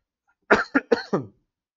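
A person with a bad illness coughs four harsh times in quick succession, close and fairly loud, with no talking around them.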